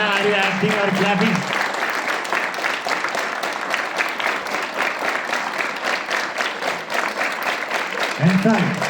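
Schoolchildren at an assembly keep up a steady burst of group clapping, with a voice speaking briefly at the start and again near the end.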